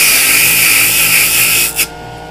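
A JoolTool rotary sanding tool runs with a steady, loud high whine and grinding hiss, close by, then cuts off abruptly at the end.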